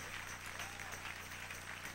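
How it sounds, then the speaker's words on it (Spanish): A church congregation applauding, with dense, steady clapping from many hands throughout, fairly even in loudness and without breaks. "Dele un aplauso al Señor bien fuerte."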